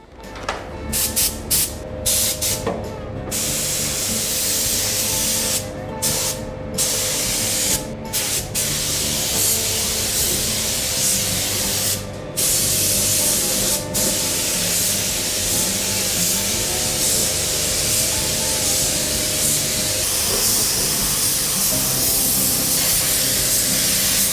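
Spray gun laying down coats of epoxy primer on a car body in a paint booth, a loud continuous hiss with brief cut-offs between passes and steady booth airflow behind it.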